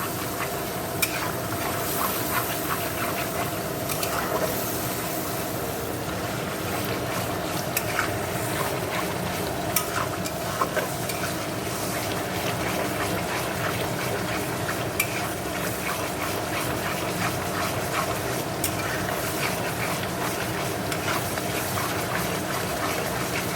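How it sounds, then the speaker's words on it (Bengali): Spice paste with salt, turmeric and Kashmiri chilli is stir-fried in a pan, giving a steady sizzle with scraping stirs and faint clinks that run evenly throughout, with no talking. "এবার ভালো করে মশলাটা কষে নেবো"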